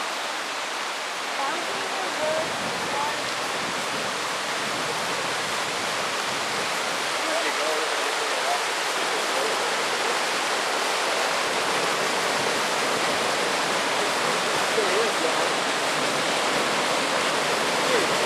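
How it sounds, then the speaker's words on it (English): A small waterfall pours over a rock, giving a loud, continuous broadband rush that stays steady throughout without a break. "You can see how the water comes over that rock."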